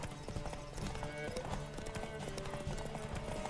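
Hooves of Roach, the horse in The Witcher 3, galloping in a steady rapid clip-clop rhythm, close and continuous with game background sound.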